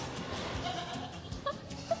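Miniature goats bleat a few times in short, high cries over a soft outdoor farm background, fairly close by.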